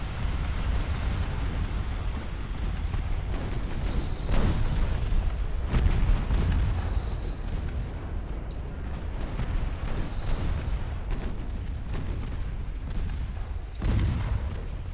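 Naval guns booming from ships in Ultimate Admiral: Dreadnoughts, an 1890s battle with heavy, rumbling cannon fire rolling continuously and sharper blasts standing out now and then.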